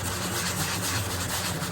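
A hand sander rasps against a drywall corner in continuous close strokes, a steady dry scraping hiss with a low hum beneath and no voices.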